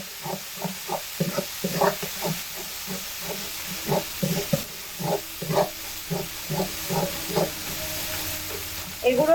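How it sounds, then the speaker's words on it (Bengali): Spice paste with Kashmiri red chili powder and salt fried in a pan for an egg dish, stirred in quick repeated scrapes over a constant low sizzle, close and fairly loud. "মশলাটাকে খুব ভালোভাবে কষানো হয়ে গেছে"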